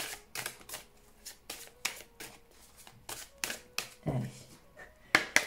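Oracle cards handled and shuffled for a love-themed July card reading, giving irregular crisp flicking and slapping bursts spaced through the clip, close and fairly quiet, with no speech.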